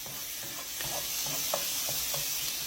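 Chopped shallots sizzle in a hot pan while being stirred, a continuous bright hiss with soft scraping pokes of the utensil recurring every half second or so.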